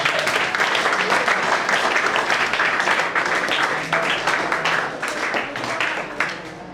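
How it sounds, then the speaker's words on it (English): A classroom of schoolchildren applauds a schoolboy with steady, dense clapping that holds for several seconds and then tapers slightly. "Clap for the boy."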